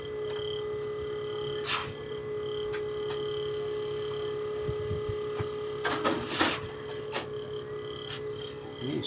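A Carrier air conditioner unit, just repaired after a P1 error, runs with a steady electronic hum and faint whine, broken by a few sharp clicks and clatters. No one speaks.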